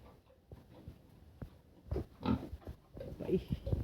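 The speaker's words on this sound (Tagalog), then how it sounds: "Yung aking baboy guys." A farm pig in a rural province grunts and snorts in short low bursts, moderately close, with someone speaking intermittently nearby.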